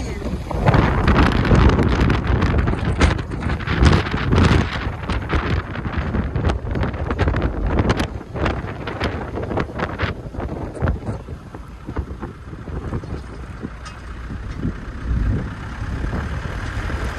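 Strong Calima wind blowing by the sea, a constant loud roaring buffet against the microphone with gusty surges and rumbling, steady throughout with no voices.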